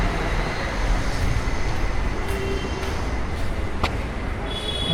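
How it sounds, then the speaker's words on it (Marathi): A train at Khandeshwar railway station gives a steady, dense rumble that holds constant throughout, with faint higher clanks over the top. "बघा खांदेश्वर रेल्वे स्टेशन"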